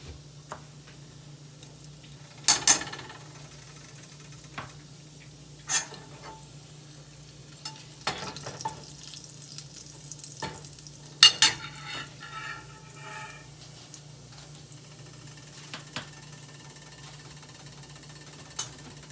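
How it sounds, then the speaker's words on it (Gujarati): Mustard seeds, cumin and asafoetida hit hot oil for a Gujarati bottle gourd and chana curry tempering, giving sparse, sharp pops and crackles spaced a few seconds apart over a low steady hum. "વઘાર બરાબર ગરમ થાય રહી તતડે"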